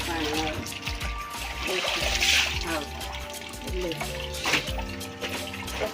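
Tap water runs steadily into a tub being filled for washing clothes early in the morning, a continuous rushing splash while people talk over it throughout.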